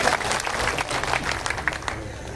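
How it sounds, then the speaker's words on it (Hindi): Crowd applause from an audience at a farmers' gathering in Kheri Chopta tehsil, a dense steady wash of many clapping hands, moderately loud and close, with a voice faintly present beneath it. "आप सब अपने लिए तालियां बजाइए"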